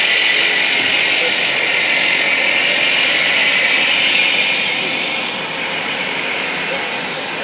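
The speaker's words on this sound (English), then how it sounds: "This is the plane we just came back on. Taxiing out, getting ready to take the next load of people out" A small airplane taxiing out on an Alaska airstrip roars loud and steady, with engine and propeller noise filling the scene and easing slightly toward the end.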